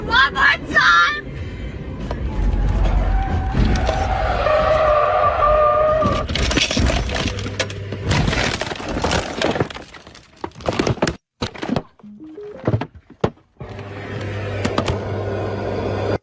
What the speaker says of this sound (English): the car slid on the gravel and then flipped over like this